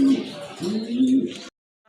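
Close, low pigeon coos at a pigeon sale, one drawn-out call followed by a second longer one, then a sudden silence; a female pigeon, among helmet-breed pairs, sits nearby while people talk.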